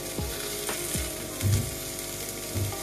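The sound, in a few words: tikka pieces frying in a pan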